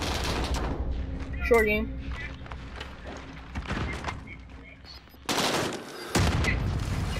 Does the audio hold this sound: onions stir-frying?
no